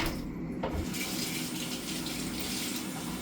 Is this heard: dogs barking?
no